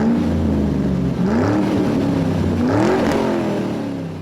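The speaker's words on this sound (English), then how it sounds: "And engines roar to life here at Rockingham." Several NASCAR stock car engines fire up and rev at Rockingham Speedway before the Coca-Cola 600, a loud continuous roar with rising and falling revs sweeping through the whole stretch, heard alone without talk.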